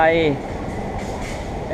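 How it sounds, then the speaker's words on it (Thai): Inside a rail car bound for Suvarnabhumi airport, a steady low rumble and hum of the moving train fills the space, with a voice speaking briefly at the start. "ตอนนี้ผมขึ้นรถไฟ"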